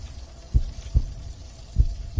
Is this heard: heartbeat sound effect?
yes